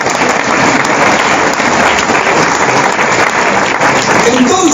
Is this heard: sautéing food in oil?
no